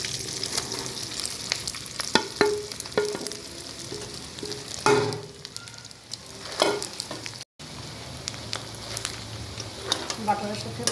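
Beef sizzling in melted butter in a pan, a steady close crackle broken by scraping stirs and clinks of a utensil, with a brief gap partway through.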